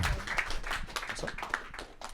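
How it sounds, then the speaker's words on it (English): A workshop audience applauds as a speaker is called up to the stage, a dense, steady patter of many hands clapping at moderate volume throughout. "round of applause"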